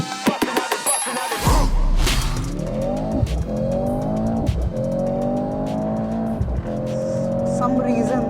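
A supercar launches hard at a drag-racing event, with a sharp squeal and burst of engine noise followed by rising revs as it pulls away through the gears, loud and close, with crowd noise around it.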